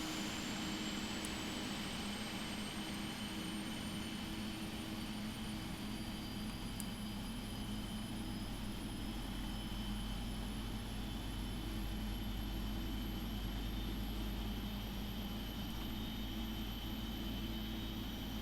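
A PMDG 777 jet engine spooling up in the Prepar3D flight simulator, a steady broad roar with a rising whine that climbs gradually throughout, continuous and fairly loud with no talk.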